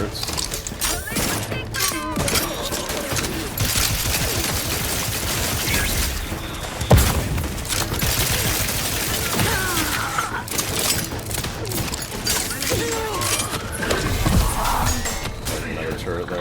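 Turret gunfire in the video game Outer Worlds 2 clatters in dense bursts through a busy, loud combat mix of mechanical rattles and impacts, with talk occurring alongside it.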